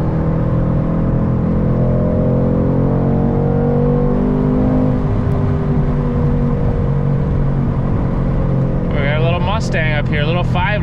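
A 500hp Mercedes AMG car accelerates hard and holds a long, sustained pull, its engine drone loud and continuous throughout, with a brief rising whine near the end.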